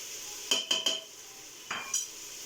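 Dry spices from jars tipped into a cooking pan with a spoon for chana dal gosht, a quick run of three metallic clinks and taps, a pause, then two more, close and fairly quiet.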